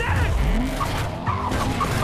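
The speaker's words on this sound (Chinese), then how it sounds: "医生上车就追赶伊尔莎。" In a car chase scene from the film Mission Impossible 5, tires squeal as a car skids under loud, continuous engine roar, with no speech.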